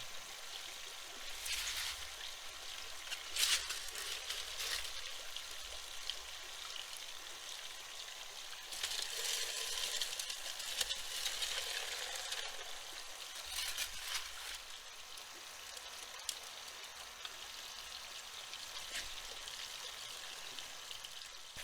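Water runs through a gold prospecting sluice box fitted with a Dream Mat as material is washed, a soft continuous trickle and splash that swells in several louder surges and then eases back. No talking is heard.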